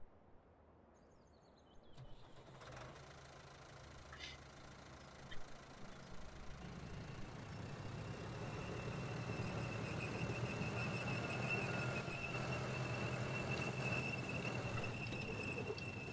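A tractor engine in the Farming Simulator 2013 game turns over about two seconds in, then builds into a steady, louder running drone with a thin high squeal on top, and no voices over it.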